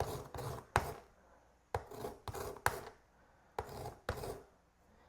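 A lime rubbed against a grater for zest, giving repeated short rasping strokes in uneven bursts, close and moderately loud, with brief pauses between passes.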